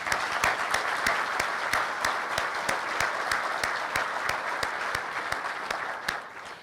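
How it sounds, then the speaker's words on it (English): Applause from the audience at an Ohio botanical symposium, a steady crowd clapping in a sustained round. One sharp clap cuts through regularly in a steady beat above the wash. "let's recognize them right now with a round of applause"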